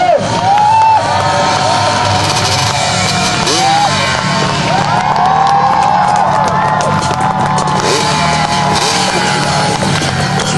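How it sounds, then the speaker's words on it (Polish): Outdoor crowd cheering and applauding for a freestyle performer at a windy open-air show, loud and continuous with shouts and whoops throughout, voices mixed in. "dlatego tym większe brawa"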